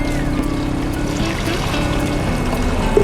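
Fish feed for mangrove crabs being rinsed in water: continuous close sloshing and pouring with small trickles and splashes, steady throughout with no talk.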